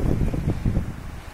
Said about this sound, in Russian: У нас штормит сильно и в горах, и вот возле моря